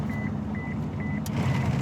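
An Aston Martin DB9 Volante sounds a repeated warning beep, several short evenly spaced tones heard close over a low, steady rumble and cabin noise inside the car.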